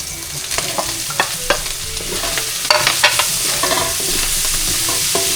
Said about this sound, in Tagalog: Pritong hotdog. Tupakin natin. Kaya po at ilalagay na rin po natin itong hotdog.